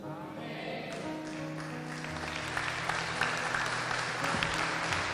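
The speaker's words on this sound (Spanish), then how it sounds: "Ese aplauso es para el Señor, mis hermanos." A church congregation applauds together during a sermon, a steady wash of many hands clapping that holds for several seconds and swells slightly toward the end, with no voices over it.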